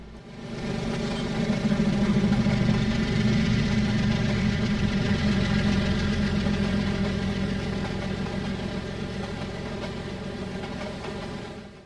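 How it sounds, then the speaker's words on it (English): Two ET4400AH diesel locomotives in the Trainz railroad game labour up a steep mountain grade, their deep, steady engine drone humming with layered harmonics, loud and continuous, with no voices. "the DPUs roll around. Two ET4400 AH locomotives"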